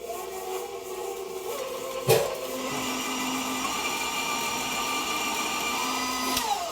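A stand mixer creams butter and sugar on low speed, giving a steady whirring motor hum with a faint rubbing, scraping texture, a sharp knock near two seconds and a brief rise at the end, with no one talking.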